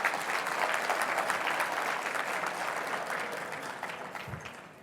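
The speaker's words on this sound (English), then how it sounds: "Let's give them all a big round of applause." Audience applause at an evening charity gala opening, steady, dense clapping from a full room that holds strong and then slowly tapers off near the end.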